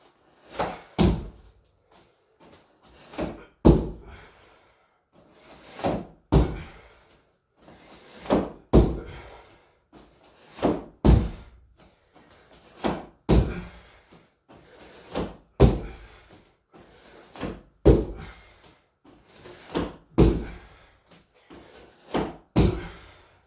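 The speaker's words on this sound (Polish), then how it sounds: "Waszym zadaniem jest 15 razy wejść prawą nogą, potem lewą nogą na krzesło i zeskoczyć w dół" Repeated heavy thuds as a person steps up onto a chair and jumps back down in a home exercise session, a steady pattern of loud paired landings every couple of seconds with quiet gaps between.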